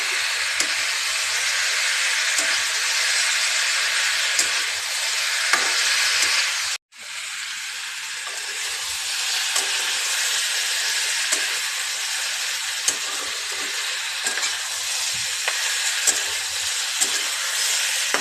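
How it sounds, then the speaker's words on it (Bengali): Vegetable curry sautéing in a pan, a steady, close hiss of sizzling oil and steam that runs almost unbroken, with a momentary cut partway through and faint scraping from occasional stirring. "তরকারি ভালো করে কষালে বন্ধুরা, তরকারির যে একটা কাঁচা ভাব সবজির, সেটা যতক্ষণ না যায় ততক্ষণ তরকারিটা কষাতে হয়"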